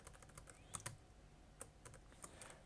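Typing code on a computer keyboard, quick irregular key clicks with a few sharper taps, quiet and close, no talk.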